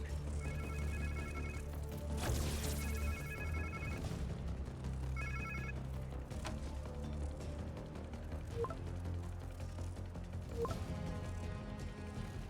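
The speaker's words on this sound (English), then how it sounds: "Sounds like somebody's phone." A phone rings in the Spider-Man 2 video game, three bursts of a trilling electronic ringtone over the game's low ambient rumble, followed by scattered impacts and clanks.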